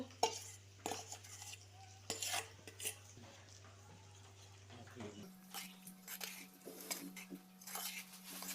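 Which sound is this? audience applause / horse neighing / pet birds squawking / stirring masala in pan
stirring masala in pan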